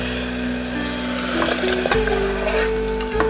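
Dal goes into a pan of cooked tomatoes for a Malabar spinach dal, setting off a loud, continuous, close sizzle broken by scraping and stirring knocks.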